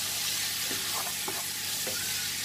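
Meatballs cook in a frying pan with a loud, continuous close-up sizzle and crackle, a few soft pops rising above the bright hiss, and no one speaking.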